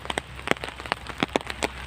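Rain falling during an evening walk through a cemetery, light irregular patter and drops tapping nearby surfaces, close and fairly quiet.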